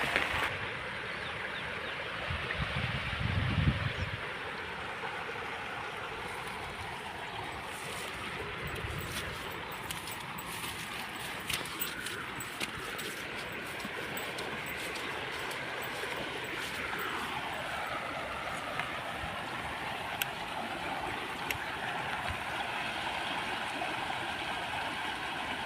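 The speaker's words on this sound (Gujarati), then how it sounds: "કેટલું બધું પાણી આવે છે જુઓ ભાઈ" Rainwater pours and streams steadily across a flooded farm field after heavy rain, a continuous broad rushing wash of moving water heard close and fairly loud throughout, with no voices.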